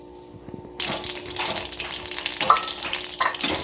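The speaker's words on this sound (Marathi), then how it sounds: "मोहरी टाकली, तडतडली" Mustard seeds crackle and sizzle in a ladle of hot oil in a pan, starting with a sudden burst of steady frying hiss and scattered pops, heard close up without talk.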